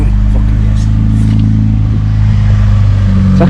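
A Fiat Seicento Sporting engine, just back together after cam timing work, idles steadily and loudly close by with an even, throbbing hum and slight clatter, a few faint voices and knocks over it.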